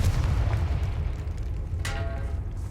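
A Confringo fire spell in Hogwarts Legacy erupts as a loud, deep booming blast with rumbling low end, followed near the end by a brief bright magical flare and ringing tail.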